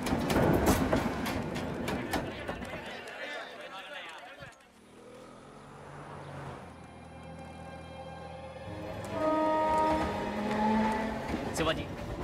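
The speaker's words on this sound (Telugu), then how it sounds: "రైలు వచ్చే టైం అయింది." A train pulls in and runs along the rails, a steady rumbling roar that fades in the middle and swells again with clattering and tonal squeals, under background music in a film scene.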